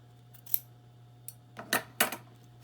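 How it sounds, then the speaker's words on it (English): Scissors snip during a craft project with fabric flowers and beads, a few quiet crisp cuts spread unevenly over a steady low hum, close by and with no talking. "I'm going to go ahead and cut this"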